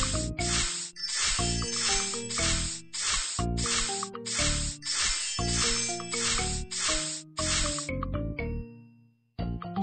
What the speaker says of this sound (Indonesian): Semprot dengan obat anti gatal.